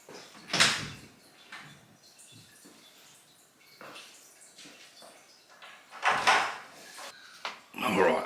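A back door opens onto a rainy garden with a broad swoosh and clatter, followed by quieter shuffling and a second heavy door movement near the end.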